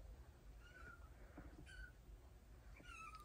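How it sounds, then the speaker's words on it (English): A cat meows several times, faint and somewhat distant, over a steady background hum. "You hear my cat crying?"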